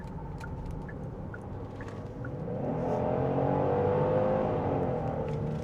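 A 2026 Genesis GV70 3.5T SUV accelerating hard, engine note swelling from a steady drone into a louder, rising pull heard from inside the cabin, with a few faint clicks early on.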